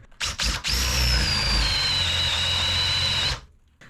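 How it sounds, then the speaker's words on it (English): A power drill with a spade auger bores into 1¼ inch wooden boat planking, two brief starts followed by a sustained, loud whirring run of about three seconds whose pitch droops slightly under load before stopping. "we'll finish this hole with the spade auger, but not all the way through, just until I can see light through from the other side"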